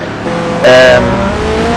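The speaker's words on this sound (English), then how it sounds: "It's one of those American muscle cars" A Ford Mustang GT muscle race car at the Bahrain circuit, its engine droning steadily and rising into a brief louder whine as it passes near, then settling back to a lower roar.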